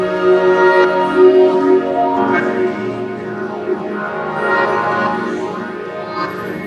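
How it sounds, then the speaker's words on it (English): Regular piano run through an Eventide H9000 effects chain with a phaser, playing dense sustained harmonic chords with slow sweeping, swirling tones, steady and fairly loud with no talking. "our effects chain sounds like this from a regular piano"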